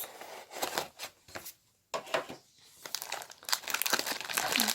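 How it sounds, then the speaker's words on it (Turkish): Crinkly packaging from a portable mesh nebulizer box is torn and crumpled open, with bursts of loud, close rustling and tearing broken by brief pauses. "Şimdi kutunun içinde başka ne var? Hemen açıyoruz."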